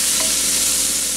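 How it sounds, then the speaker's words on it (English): A sloppy joe potato skillet mixture with onions is stirred in a hot pan, giving a brief close scrape over a steady sizzle, with no talking. "I'll mix that up a little bit before I put the seasonings in."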